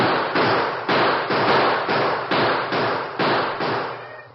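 Gunfire in an old-time Western radio drama as settlers shoot at a band of Indian scouts: about nine loud, evenly spaced blasts, roughly every half second, each with a short decaying tail, with no voices over them.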